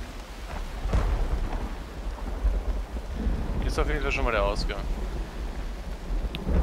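Steady rain with rolling thunder in the video game Myst Online: Uru Live, a constant wet wash under deep rumbles, while someone speaks German over it and another voice briefly chimes in.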